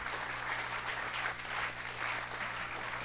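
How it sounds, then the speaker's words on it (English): An audience at the Pwani Innovation Week 2022 launch event applauds, giving a steady wash of clapping from the crowd that continues throughout. "Please give them a round of applause."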